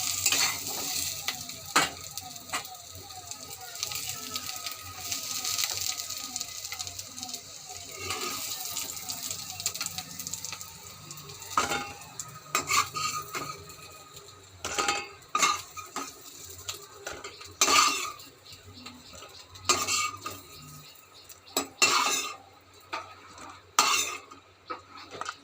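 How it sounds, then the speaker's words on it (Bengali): Vegetables finish frying in a pan with a soft sizzle underneath, then spatula scrapes and utensil clanks grow frequent as they are lifted out, with metallic knocks spaced through the latter half. "সবজিটা আমার ভালোই ভাজা হয়ে গেছে, এবার আমি সবজিটা তুলে নেব।"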